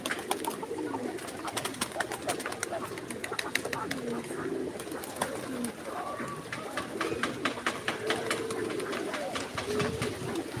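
Several pigeons cooing continuously nearby, low throaty warbles overlapping, with rustling and clicking sounds and faint talk in the background.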